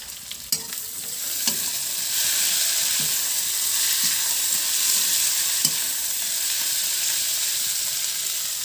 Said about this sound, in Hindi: अभी हम सब्जी भून रहे हैं